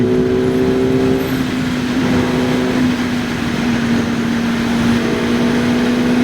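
A QJ Motor SRK 421 RR four-cylinder motorcycle engine revs high and loud during a ride, a steady sustained howl with rising pitch near the start and continuous wind and road roar underneath, no voices.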